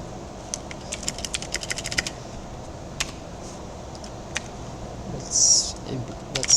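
Computer keyboard typing as code is entered, with irregular clusters of light key clicks and taps at close range. Quiet speech-like sounds drift in the background.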